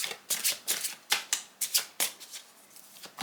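Cards are shuffled in quick repeated riffles, crisp flapping bursts about every third of a second, close up with no talking.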